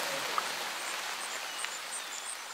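A rain sound effect added to a Lumion animation gives a soft, steady hiss of falling rain with a few faint drop ticks, quiet and even throughout with no other sounds.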